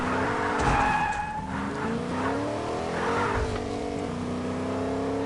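A truck in Fortnite skids around a corner, its engine revving as the tires squeal in a long, loud slide with rising and falling engine pitch, no talking.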